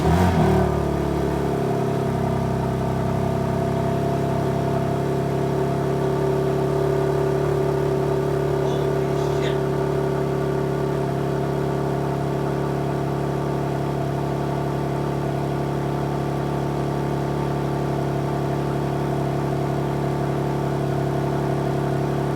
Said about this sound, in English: First cold start, brand new BMW M4 competition.